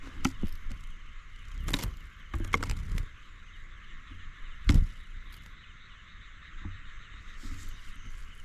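Frogs croak near a village pond on a foggy night, with a few sharp, separate calls standing out against a steady, faint insect-like drone. The calls come in brief bursts with quiet gaps between them.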